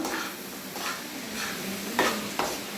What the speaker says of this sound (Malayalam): ഇനി നമുക്കിത് നന്നായിട്ട് ഇളക്കി കൊടുക്കാം.